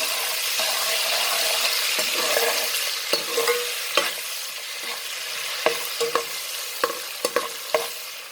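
Garlic-ginger paste sizzles and spatters in a hot pan, with a spoon stirring and scraping at intervals, small clicks punctuating the steady frying hiss.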